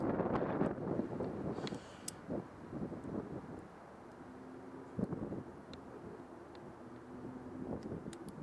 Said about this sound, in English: Legit, that was the wind.